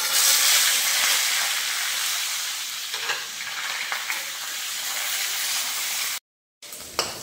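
Potato, papaya and drumstick pieces sizzle loudly in hot oil with panch phoron, a close, bright hiss that fades a little and is then broken by stirring clatter and a short silent gap.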